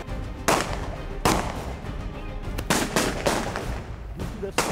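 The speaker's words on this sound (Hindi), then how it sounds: "यहाँ पर दोनों तरफ से फायरिंग हो रही है।" Gunfire rings out during a police raid, with both sides shooting: several loud, sharp shots spaced irregularly, some in quick pairs, against a noisy, reverberant background.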